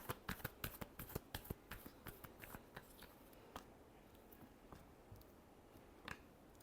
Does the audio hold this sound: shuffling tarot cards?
yes